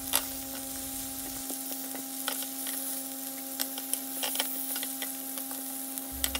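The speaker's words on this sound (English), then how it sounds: "once your lamb chops are done, you're gonna take them out of the pan" Lamb chops frying in a pan, a steady close sizzle with occasional pops and crackles, alone with no talking.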